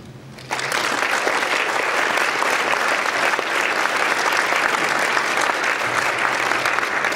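An audience bursts into steady, loud applause to welcome a speaker to the stage at a business presentation, starting abruptly after a brief quiet moment and holding evenly to the end.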